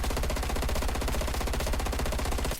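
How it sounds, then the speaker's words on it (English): An FFAR assault rifle in Black Ops Cold War fires one unbroken, rapid full-auto burst, loud and close, with no voices over it. "Now this is the FFAR in Black Ops Cold War."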